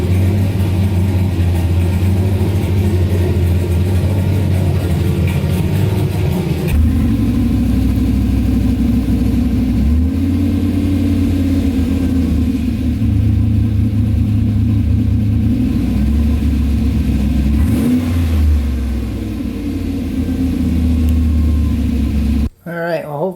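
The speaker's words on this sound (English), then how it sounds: "hopefully you guys like the sound of the new exhaust." A turbo V8-swapped Ford Ranger running through dual 36-inch glasspack mufflers, a deep steady rumble with slight rises and falls in revs, loud and close throughout until it cuts off near the end.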